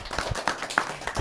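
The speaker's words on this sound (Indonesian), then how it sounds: "tepuk tangan dong buat yang bertanya" A small audience at a youth Islamic Q&A session claps for a questioner in a few sparse, uneven claps spread over a short moment, fairly close and unaccompanied by talk.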